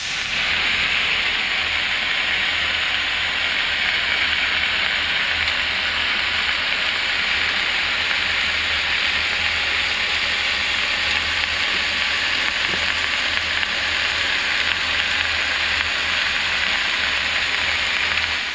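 A steak sizzles on a hot grill, giving a steady, loud, broadband hiss like heavy rain that holds unbroken throughout, with no talking over it.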